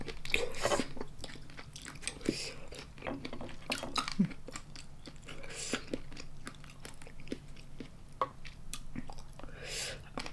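Crisp, crunchy bites and chewing of a fresh oyster topped with fish roe and seafood dipping sauce, a run of close, sharp crunches and small clicks repeating irregularly throughout.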